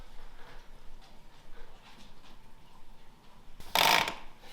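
A Valencia Tuscany theater seat back is pushed into place, giving a short, loud ratcheting burst of clicks near the end after quieter handling noises.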